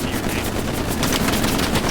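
Gunshots in Hell Let Loose, a World War II shooter: dense, loud bursts of rifle and machine-gun fire crackling continuously without pause, close and overlapping.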